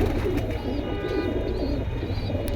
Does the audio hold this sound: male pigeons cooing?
yes